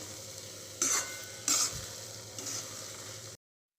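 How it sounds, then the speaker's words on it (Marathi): Banana pulp being stirred with jaggery syrup in a pan for banana barfi, a soft continuous sizzle with three scraping strokes of the spoon, close and quiet, ending in abrupt silence. "यात आपण गुळाचा पाक केला ते घालायचा हे छान मिक्स करून घ्यायचं"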